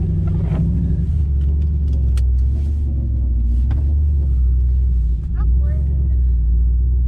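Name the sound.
turbo GMC truck engine revving, wheels spinning in snow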